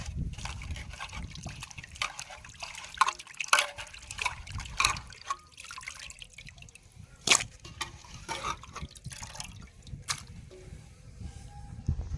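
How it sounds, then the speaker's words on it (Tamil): Water and curd poured into a cooking pot, a close liquid trickle with scattered drips and splashes and occasional clinks, fairly quiet throughout. "இப்போ கொஞ்சம் தண்ணி தயிர் ஊற்றிக்கிறோம்"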